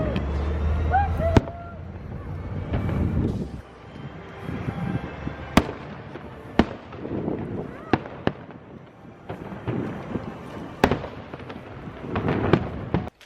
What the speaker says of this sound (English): we'll probably hear the fireworks, at least the beginning of it